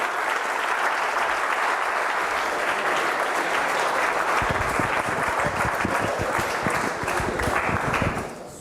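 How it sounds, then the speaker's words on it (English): A live audience applauds an instructor at an evening session, broad sustained clapping from many people that thickens midway and fades out at the close. "Give him a round of applause, everyone"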